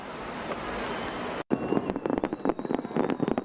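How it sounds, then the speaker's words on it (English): Fireworks bursting over Washington, D.C. for Independence Day: a steady crackling wash breaks off, then a rapid run of sharp pops and bangs follows, fairly distant and moderately loud. "Fireworks lit up the night sky over Washington, D.C., marking America's 245th birthday on Sunday."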